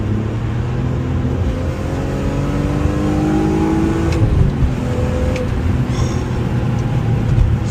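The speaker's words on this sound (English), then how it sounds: "I do love the sound of the E46" A BMW E46 M3 on UK country roads pulls steadily under load from inside the car, its engine note climbing and dropping through gear changes against continuous road noise.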